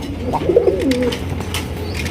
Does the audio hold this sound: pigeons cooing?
yes